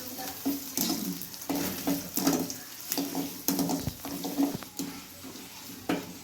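Capsicum being sautéed in a pan for cabbage Manchurian, with steady oil sizzle broken by repeated clinks and scrapes of a spatula stirring against the metal, close and clear with no talking.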